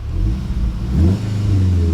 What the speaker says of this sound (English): I'm just going to start it up, foot on the brake. Let's give it a couple of revs.